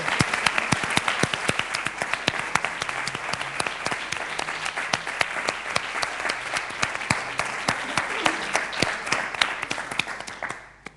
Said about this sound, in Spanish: Sí, yo quiero que le demos un aplauso